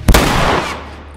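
A single loud, close gunshot from The Last of Us Remastered cracks out at the start, then a rumbling tail fades slowly over about a second.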